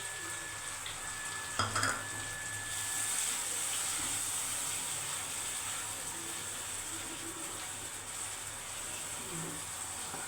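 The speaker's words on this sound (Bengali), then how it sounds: "একটু জল দিয়ে দিই, এই জলটা দিচ্ছি আমি কিন্তু।" Water poured into a simmering prawn malai curry, a soft steady sizzle with a brief splash and clatter at the start, then continued gentle bubbling and hiss, close by and without speech.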